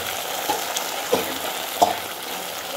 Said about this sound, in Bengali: মশলাটা খুব সুন্দরভাবে ভাজা হয়ে গেছে